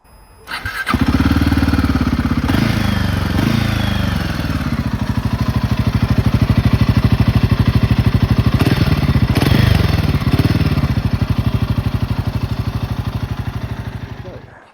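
A motorcycle engine starts up and idles with a loud, rapid, throbbing rumble, revving briefly a few times before settling back to a steady idle.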